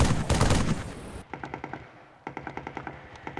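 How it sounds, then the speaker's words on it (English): Halo 3 video game gunfire: loud rapid automatic bursts at first, then after a brief lull two further sequences of sharp, evenly spaced shots with a lighter, more distant crack. "big, beefy gunfire being fired next to me"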